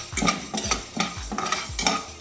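Black urad dal being dry-roasted and stirred in a hot pan, the lentils scraping and rattling against the metal in regular strokes about every half second, close and clear with a faint sizzle beneath, no voices.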